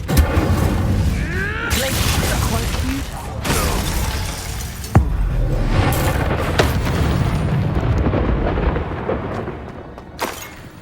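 Incendio fire spell cast in Hogwarts Legacy, loud crackling bursts and booming impacts with sharp shattering hits, layered over dense, continuous game noise.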